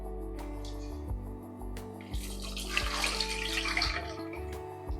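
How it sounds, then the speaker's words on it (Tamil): Tamarind water for coconut milk rasam being stirred and poured into a pot, close liquid splashing and trickling that builds and swells in the middle, alone with no talk. "இப்போ வந்து புளி தண்ணியை கரைச்சி ஊற்றிடலாம்"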